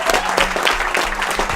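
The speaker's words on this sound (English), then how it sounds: "you should all have a big massive round of applause to yourselves" Wedding guests applaud the couple, a steady wash of many hands clapping close by with no pause, the room's murmur blending into it.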